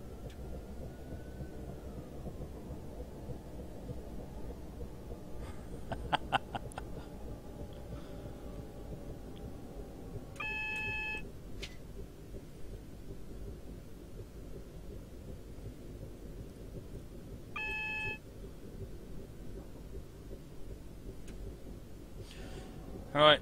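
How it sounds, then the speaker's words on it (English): In Train Simulator 2015, a Class 378 train's cab alarm sounds in several short electronic beep bursts, with a steady low rumble of the running train underneath. "I hear the alarm."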